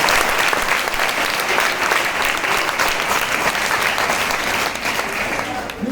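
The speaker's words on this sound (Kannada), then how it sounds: "ಒಂದ್ಸಲ ಚಪ್ಪಾಳೆ ಇರಲಿ" Sustained applause from an audience at a talk on Ambedkar and caste, a dense, even wash of many hands clapping close by for about six seconds, tapering slightly at the end.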